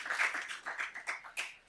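Audience clapping at an early childhood education lecture, a short burst of quick, fairly close hand claps that rise and fall over under two seconds.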